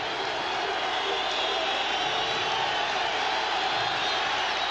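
A large crowd on its feet, cheering and roaring for a strikeout, fills the space as a dense, steady wall of noise that holds at a constant loud level throughout with no clear breaks or separate voices.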